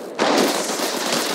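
Gunfire in Apex Legends Mobile, a loud sudden burst of shots blurring into a dense sustained crackle that holds for over a second.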